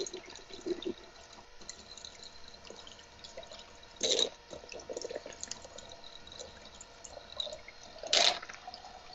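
Water trickling and bubbling through a custom PC liquid-cooling loop on an open test bench, a soft steady flow with faint drips and two brief louder gurgles partway through, no talking.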